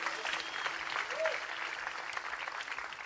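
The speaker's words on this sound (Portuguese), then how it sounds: "Recebam com uma salva de palmas o Vini." Fairly faint, steady applause from a church congregation welcoming a pastor, with a brief cheer or shout rising through the clapping midway.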